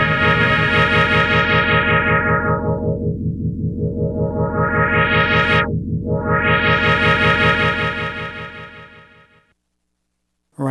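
A looped sample on an Akai sampler repeats as a loud pulsing tone, its brightness sweeping down and up twice like a filter, then fading out near the end before a sharp restart.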